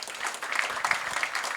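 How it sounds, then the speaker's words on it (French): Audience applause for women leaders in logistics and industry, a short burst of steady, close clapping from a modest crowd. "Applaudissements encore pour vous."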